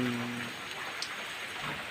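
Steady rain falls in a soft, even hiss, with no voices or other distinct sounds.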